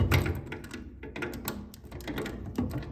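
A wrench tightening an air hose fitting wrapped in white Teflon tape during sandcarver setup, heard as a quiet run of close, sharp metallic clicks and taps in irregular rhythm.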